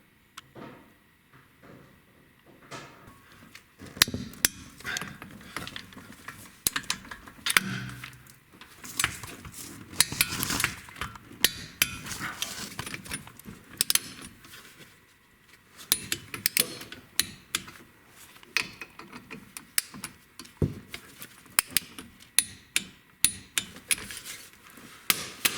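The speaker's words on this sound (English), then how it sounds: "now we gotta get a torque wrench and torque those bolts down to the proper torque setting" Sharp metallic clanks and ticks of tools as brake bolts are torqued down on a 2009 Ford Fusion, irregular knocks and clicks spread across the stretch, close and fairly loud with no talking.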